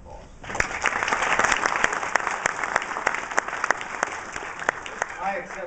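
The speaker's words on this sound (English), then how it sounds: "they deserve a round of applause." Audience at an awards dinner breaks into applause, many hands clapping in a full sustained burst that swells after a brief pause, with a few sharper individual claps standing out.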